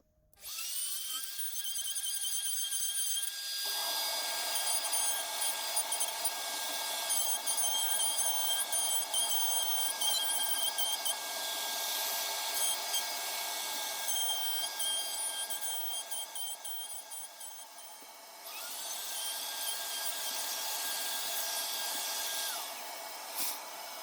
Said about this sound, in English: especially if I switch the router on